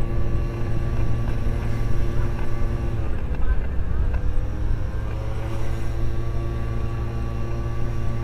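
Two-stroke Honda Dio motor scooter climbing a steep uphill road, its engine droning in a steady, buzzing whine that holds loud and close throughout, rising and falling slightly in pitch as it labors up the slope.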